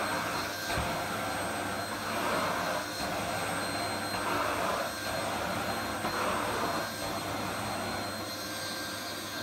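An Asda ASV-17 vacuum cleaner runs close by with a steady, loud whooshing drone. The tone shifts a little as the cleaner is pushed across the floor, and no one talks.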